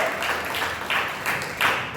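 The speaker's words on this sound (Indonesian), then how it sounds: "Tepuk tangan, saudara-saudara." A church congregation applauds during a sermon, a continuous spread of clapping with a few louder swells, no voices standing out over it.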